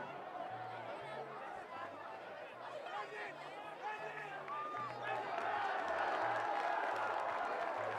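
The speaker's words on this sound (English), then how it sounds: "Fans start cheering as we see number 58 come in." Crowd of fans at a high school varsity football game cheering and chattering in the distance, swelling slightly toward the end, heard under a commentator's ongoing talk.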